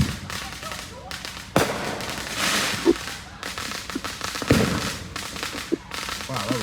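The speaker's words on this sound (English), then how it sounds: "You hear the fireworks?" Fourth of July fireworks bang outdoors in a series of sharp, irregular blasts, some loud and crackling, with people talking and exclaiming over them.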